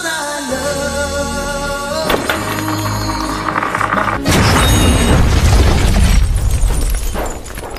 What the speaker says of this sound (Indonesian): Kemudian meledakkan restoran tersebut tanpa rasa gugup sedikit pun.